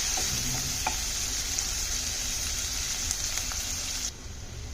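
Chopped onions fry in a pan for a shrimp curry, a steady close sizzle with a few light stirring taps, cutting off abruptly near the end.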